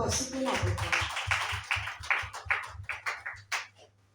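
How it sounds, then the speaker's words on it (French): A church congregation claps for the Lord at a New Year service, starting as dense group clapping over a low hum, then thinning into separate loud claps that fade toward the end. "Applaudis pour le Seigneur"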